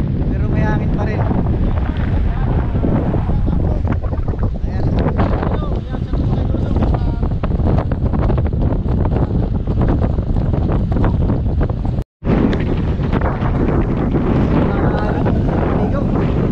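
Strong wind lingering after a typhoon roars steadily and close against the microphone, broken by one brief dropout, while people talk and call out throughout.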